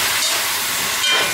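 Steam hisses loudly from a pot of Jamaican yard-style curry chicken as water goes in, a close, broad, continuous sizzle with a brief surge near the end and no talking.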